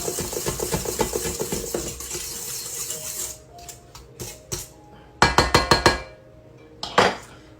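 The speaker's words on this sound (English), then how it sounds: "I'm going to kind of mix this around here, this sugar and flour up with my whisk" A whisk stirs sugar and flour in a bowl for banana bread, first with a rapid run of rhythmic clinks against the bowl, then a few scattered, sharper taps and rattles.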